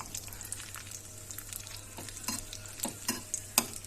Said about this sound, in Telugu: కాజు కిస్మిస్ వేసి గోల్డెన్ కలర్ వచ్చే వరకు మంచిగా వేయించుకొని కలుపుకోవాలి